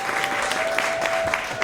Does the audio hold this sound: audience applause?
yes